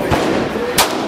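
Two sharp SIG 229 pistol shots at an outdoor gun range, a softer report followed by a louder crack, each ending quickly.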